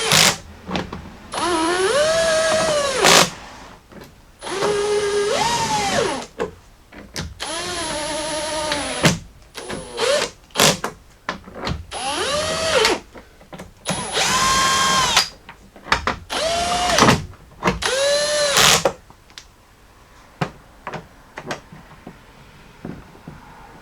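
A power drill drives screws back into a rear wiper motor on a 1997–2001 Jeep Cherokee XJ, whining up in pitch in about ten loud bursts of a second or two each, separated by short pauses.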